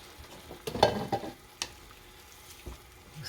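Rice and water being stirred in a cooking pot, a few close scraping, sloshing strokes with a louder burst early on, then quieter intermittent clinks and swishes.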